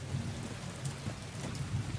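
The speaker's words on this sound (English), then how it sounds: "And it's still raining." Steady rain falls in the Silent Hill 2 video game, a constant soft hiss with low rumbling thunder underneath, quiet and continuous with no talking.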